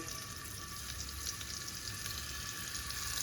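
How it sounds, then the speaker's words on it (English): Beef calves liver sizzles steadily in a hot pan, a constant crackling hiss with soft bright pops and no talking. "Got a nice little sizzle."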